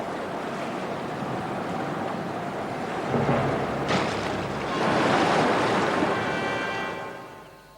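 Breaking ocean waves surge in a loud, continuous roar of surf that swells twice toward the middle, then ebbs and fades near the end, with no voices over it.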